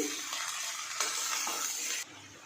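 Potatoes and ridge gourd frying in oil in a pan, a steady loud sizzle with a few scraping stirs that cuts off abruptly near the end.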